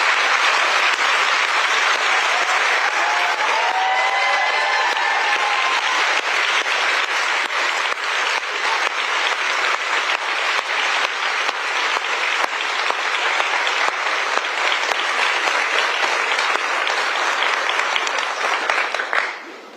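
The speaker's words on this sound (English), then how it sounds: "a round of applause for that" Long, steady audience applause at a Georgetown Law distinguished lecture to a graduating class, a thick continuous roar of clapping lasting nearly twenty seconds before cutting off, with faint voices mixed in.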